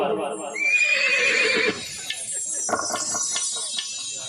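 A horse whinnies once, a loud shrill neigh lasting about a second, during a staged folk-tale recitation of Shri Devnarayan, followed by clip-clop-like knocks and bell-like tones with voices nearby.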